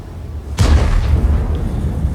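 A single deep boom from an explosion in World of Tanks erupts suddenly and loud, then trails off into a long low rumble.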